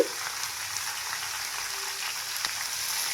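Mixed vegetables sizzle steadily in a hot pan just after being poured in, a continuous hissing crackle like light rain with no voices.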